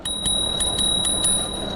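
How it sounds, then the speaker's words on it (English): The bell on a Himiway Cruiser fat tire e-bike rings in a quick run of about six bright, evenly spaced dings, close and clear over faint outdoor background. "It's got a cool bell."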